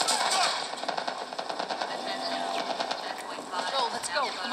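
Rapid automatic gunfire rattles in The Last of Us, fairly distant and continuous, under shouting voices and a busy combat din.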